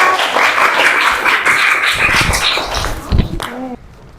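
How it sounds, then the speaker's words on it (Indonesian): A classroom of young pupils claps for a group, a brisk burst of applause that thins out toward the end as voices break in and the clapping stops. "Tepuk tangan untuk kelompok"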